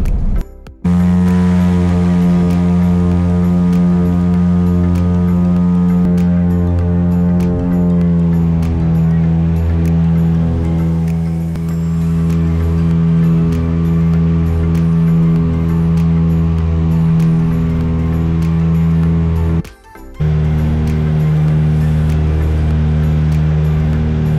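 Small airplane taking off from the runway on Île-aux-Grues, a loud, steady engine drone with strong tonal harmonics heard from inside the cabin, pitch shifting as the run continues, briefly dropping out twice.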